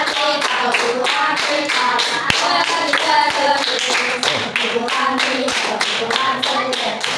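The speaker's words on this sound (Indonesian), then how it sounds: "Coba sekali lagi dengan tepuk tangan yang semangat." A school class clapping hands enthusiastically, loud sharp claps in a quick steady rhythm while the students chant together.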